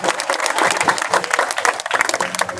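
A dense, loud crowd at a political rally claps continuously, many hands blending into one steady roar of applause with faint voices mixed in.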